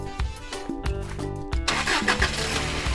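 A Jeep engine at a cartoon mechanic's garage cranks with a few stuttering bursts, then catches and roars into a steady, loud, close running rumble.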